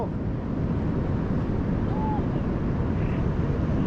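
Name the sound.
wind blowing on Perran Sands beach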